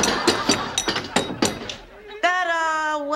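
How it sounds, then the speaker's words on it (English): A doorbell rings once with a sustained, sharp electronic chime, preceded by several sharp knocks or clatters and scattered voices. "That was the doorbell."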